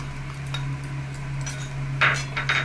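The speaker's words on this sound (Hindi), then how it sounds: "अब इसको फिर अच्छे से ऐसे ही भून लूंगी।" A spoon scrapes and taps against a pan while besan masala roasts for gujiya filling, giving a few quick metallic clinks near the end over a quiet, steady background hum.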